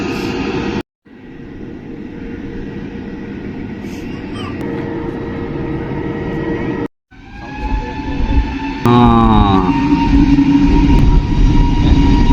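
A passenger plane flying near an airport by a riverside viewpoint, heard as a loud, steady engine roar nearby that swells and grows harsher toward the end, with brief breaks in the recording.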